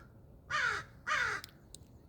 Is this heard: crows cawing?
yes